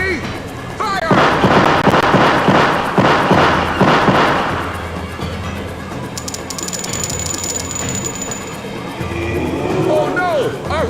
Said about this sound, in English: Lock on target, men! Ready? Fire!